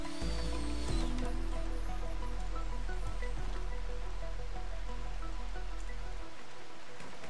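Steady rain falls in the colony-survival game Rimworld, a continuous even hiss of drops with a low droning undertone throughout, which thins out near the end.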